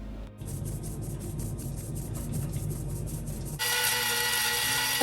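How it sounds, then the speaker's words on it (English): An electric grinder whirs continuously while milling a Ghanaian all-purpose natural spice mix, a steady buzzing drone that turns brighter and harsher for the final seconds, loud and close with no talking. "keep on grinding, grind until everything is completely done"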